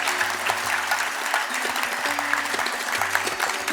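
A hall audience at an awards event claps together in sustained, even applause, loud and close, while a low tone hums steadily beneath the many hands.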